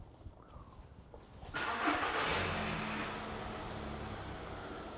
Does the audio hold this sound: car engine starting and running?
yes